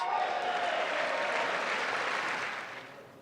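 Audience applause during a presidential speech in a large chamber: a broad, sustained wash of clapping heard from a distance, steady at first and then fading slightly toward the end.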